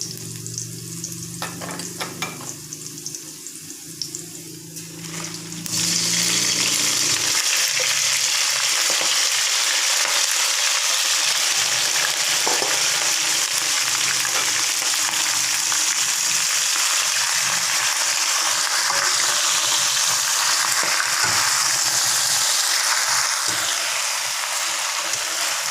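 Pak choy greens are dropped into a hot pan and start stir-frying. The sizzle jumps to a loud, steady crackle after a quieter start with a few clatters, then keeps hissing close up.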